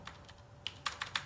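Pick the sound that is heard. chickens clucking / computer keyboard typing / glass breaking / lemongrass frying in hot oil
computer keyboard typing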